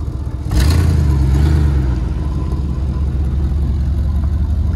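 Dodge Durango 4x4 engine held wide open in neutral, a loud sustained revving drone that surges in at once and stays steady, close and alone without talk.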